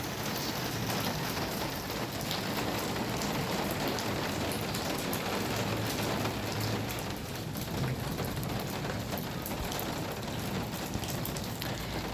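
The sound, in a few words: heavy rain falling in Quetta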